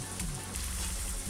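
Arroz con gandules cooking in a pot, giving a steady, soft sizzle and bubbling hiss that stays even and close throughout.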